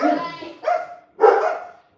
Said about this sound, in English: Timer goes off, dogs freak out.